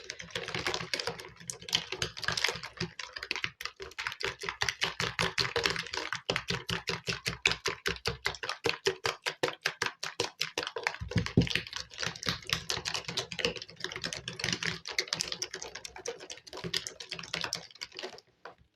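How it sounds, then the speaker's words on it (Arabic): Eggs and sugar whisked for waffle batter, a fast steady run of sharp clicking strokes against the bowl, close and continuous with slight shifts in rhythm. "كنحاول نضربهم مزيان حتى يمتزج لي داك البيض والسنيده"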